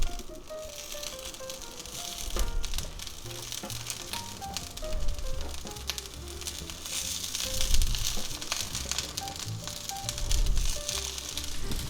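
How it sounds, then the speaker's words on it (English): Asparagus sizzles and crackles in oil in a hot cast iron skillet. The rattling hiss rises and falls in soft surges, and a quiet tonal background runs underneath. "let's go ahead and saute some asparagus"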